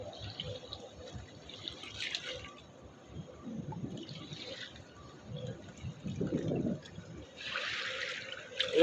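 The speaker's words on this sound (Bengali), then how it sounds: "ঢেউ আসতে চলেছে বিশাল সমুদ্রের ঢেউ দেবে এই যে ঢেউ দিচ্ছে" Waves from a large ship's wake wash along the bank of the Hooghly river, a low rolling slosh of water that swells in irregular surges, moderately near, with a few distant voices faintly beneath.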